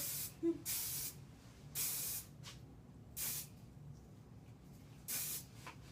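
Hairspray from an aerosol can, sprayed onto curled hair while styling a curly updo, in five separate hissing bursts of about half a second each with short quiet gaps between them, close and clear.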